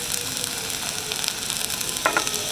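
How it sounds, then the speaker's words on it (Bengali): Potatoes and green plantain frying in hot oil, a close steady sizzle with crackling spits and a brief stirring clatter near the end. "আলুটা তেলের ওপর দিয়েছি, আলুটা বেশিক্ষণ জাল খায়, একটু ভাজা ভাজা করে নিয়ে তার কাঁচকলা দিয়ে দেবো"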